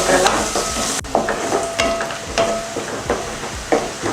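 Sliced onions frying in hot oil with mustard seeds and curry leaves for masala dosa filling, a steady close sizzle broken by repeated scraping stirs of a spoon against the pan.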